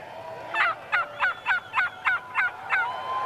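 A turkey gobbles in a quick rhythmic run of about eight sharp, evenly spaced calls, clear and fairly close against a quiet background.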